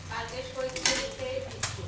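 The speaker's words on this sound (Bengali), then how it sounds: "এই জন্য আমি কড়াইতে ভাজতেছি।" Eggs fry in a small wok, giving a short, close sizzle with quick scraping strokes and a couple of sharp spatula clinks against the metal.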